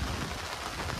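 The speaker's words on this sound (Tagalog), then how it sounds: "umuulan dito" Steady outdoor rain, a dense even hiss of drops pattering on surfaces close by, with no voices over it.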